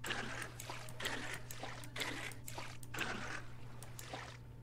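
Water is poured from a bucket into a barrel in Vintage Story, a soft splashing trickle in several pulsing surges over a constant low hum.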